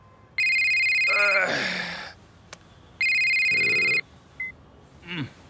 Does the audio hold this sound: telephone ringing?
yes